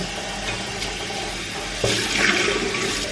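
Water runs steadily from a tap while something is rinsed clean, a continuous splashing rush that swells louder near the end, close by with no talking.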